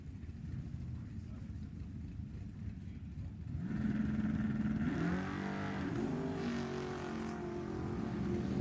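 A 1969 Camaro and a 1973 Nova launch side by side at an NHRA drag strip, engines roaring up from a low rumble into a loud, rising wail of acceleration, with an announcer talking over it.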